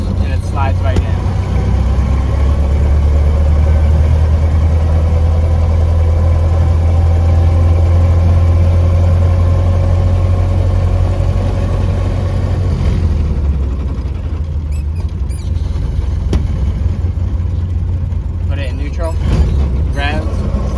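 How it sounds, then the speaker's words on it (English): A 1930 Ford Model A engine runs loud and close in neutral during a gearshift, a steady low rumble that rises with revving and then eases, with a rougher mechanical patch late on. "put it in neutral, rev, and it slides right in."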